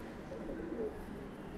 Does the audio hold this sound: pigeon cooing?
yes